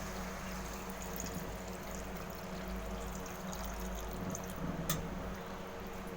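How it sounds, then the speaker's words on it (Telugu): Water poured into a pot of mutton curry spiced with chilli powder and coriander powder, a quiet steady stream running for several seconds without talk. "వేసుకున్న తర్వాత కొంచెం వాటర్ పోసేసి"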